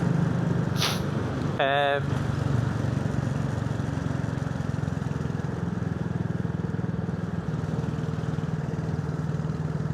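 A Royal Enfield 350 Scrambler motorcycle rides along with a steady, loud engine drone and wind rumble, broken early by two short tonal bursts.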